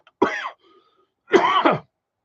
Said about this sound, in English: my meds caused that coughing